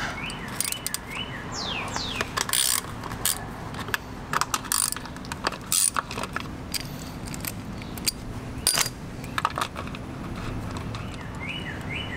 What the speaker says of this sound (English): We're going to remove the cover over the sprocket. It's a 8mm socket.